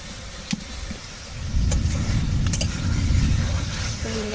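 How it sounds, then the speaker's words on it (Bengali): Thunder rumbles outdoors while fish curry cooks: a low, muffled roll that swells after a quiet start and holds steady for several seconds, with faint kitchen clicks on top. "ওই দেখুন মেঘ ডাকছে"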